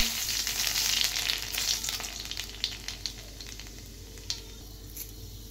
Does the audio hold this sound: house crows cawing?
no